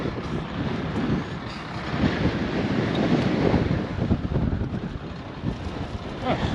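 Strong gusty wind on a farm during alfalfa chopping, a loud rumbling buffet that rises and falls across the whole stretch, with no other clear sounds.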